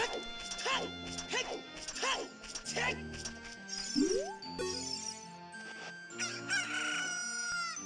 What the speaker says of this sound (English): the cuckoo is now hatched